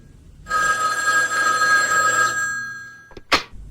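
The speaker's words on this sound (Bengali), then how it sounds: "তখন ক্রিং করে ফোনটা বেজে উঠল" A telephone bell rings in one loud, continuous burst of about two seconds as a radio drama sound effect, then trails off into a couple of sharp clicks, with no voices.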